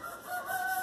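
Chickens crow and cluck close by, a rising drawn-out rooster call over soft clucking, loud and alone without voices.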